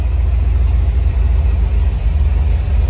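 A Ford Ranger with a 5.0 GT engine runs at a steady idle, a constant low rumble with a fairly quiet exhaust, heard close and alone for the whole span.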